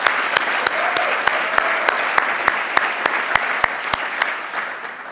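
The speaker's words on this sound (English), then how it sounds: "Can we give Susan Pleiner a round of applause?" An audience applauds in a packed room at an evening pitch event, a steady bed of clapping with sharp regularly spaced claps standing out near the microphone.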